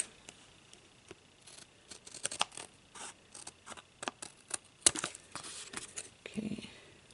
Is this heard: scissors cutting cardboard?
yes